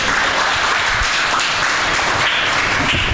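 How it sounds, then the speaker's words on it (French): Dense, loud applause fills the room at a school quiz game in Senegal, a continuous wash of many hands clapping together without pause. "On applaudit."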